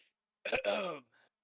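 A man clears his throat once, a short rough burst into a voiced rasp lasting about half a second, close and moderately loud, followed by a faint breathy trailing sound.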